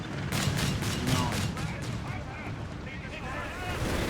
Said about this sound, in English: Got cleared out there by Fierce Artillery Fire